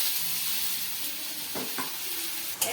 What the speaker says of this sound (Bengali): এটা তো মশলাটা ভালো করে কষে নিয়েছি